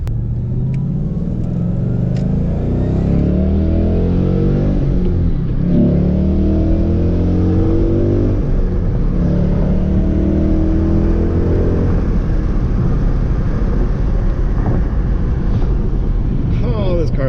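Ford Mustang engine rumbling steadily and pulling through revs from inside the car, a loud continuous low drone with wind noise, while people talk over it.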